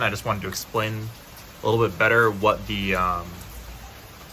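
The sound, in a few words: rain falling outside the van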